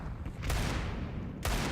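Grenade blasts in a competitive shooter game match, two loud broadband bursts about a second apart over steady in-game background noise.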